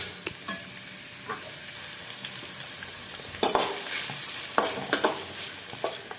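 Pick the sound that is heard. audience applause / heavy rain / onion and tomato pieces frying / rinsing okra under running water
onion and tomato pieces frying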